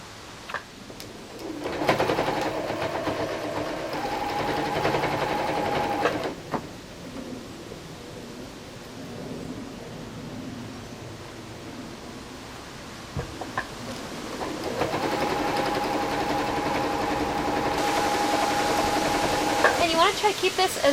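Sewing machine stitching fabric for a salon haircutting cape, humming in two sustained runs of several seconds each, separated by a quieter stretch of handling noise.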